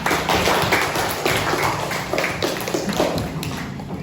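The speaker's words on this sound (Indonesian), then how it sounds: "Tepuk tangan untuk kelompok 3." Students in a classroom clap for a group, a dense, loud patter of many hands close by that keeps going at a steady level throughout.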